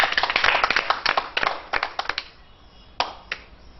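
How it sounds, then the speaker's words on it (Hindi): A small group claps after a quiz answer is judged correct, a loud burst of clustered hand claps that thins out into a few scattered claps near the end. "तालियां।"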